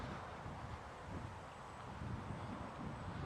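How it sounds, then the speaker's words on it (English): Wind gusting outdoors on a lawn, buffeting the microphone with a steady, low, faint rushing roar and soft rustling throughout, no voices. "You see how windy it is?"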